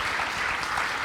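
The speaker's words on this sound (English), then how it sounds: "I just want to take a moment and give them all a huge round of applause for the participation." Audience applause at a university computer science summit. The clapping is brief, steady and moderately loud, with no talking.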